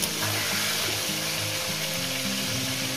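Pieces of katla fish fry in a pan of oil, giving an even, continuous close-up sizzle with faint bubbling crackle and no speech over it.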